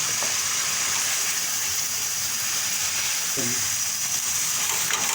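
Steady broadband sizzling of gravy frying in a pan, continuous and close, with a faint clink of a utensil partway through.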